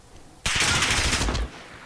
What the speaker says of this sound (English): Some scattered gunfire there coming out from, I believe, what was Shocks